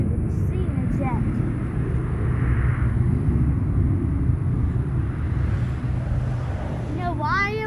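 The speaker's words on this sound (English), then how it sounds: "Oh, I've never heard a fucking jet that loud." A military jet passes overhead as a loud, sustained roar that fills the whole sky with a deep rumble, steady throughout with no break.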